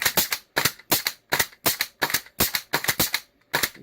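A custom propane-powered airsoft SVD-S rifle fires in a rapid series of about ten sharp cracking shots, loud and close, some in quick pairs, with short gaps between them and no talking.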